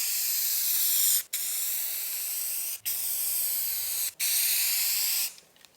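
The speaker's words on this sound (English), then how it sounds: "A can of spray paint" Can of spray paint spraying in four long continuous hissing bursts, each a few seconds long with short gaps between them, close and loud.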